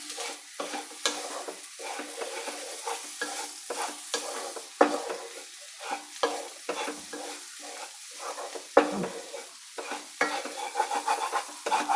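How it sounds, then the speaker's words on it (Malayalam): Amarakka thoran with grated coconut and three chopped green chilies is stirred in a pan, giving a run of scraping, tossing strokes over a soft sizzle, close and moderately quiet. "എന്നിട്ടെല്ലാം കൂടെ അങ്ങ് ചിക്കി എടുക്കുക."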